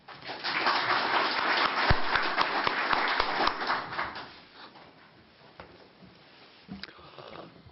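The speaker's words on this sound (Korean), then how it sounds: "똑같이 박수로 맞아주시기 바랍니다." An audience at a mayoral candidates' debate for the Chungbuk Journalists Association's 50th anniversary applauds to welcome a candidate, with dense clapping that fades after about four seconds into sparse claps and room noise.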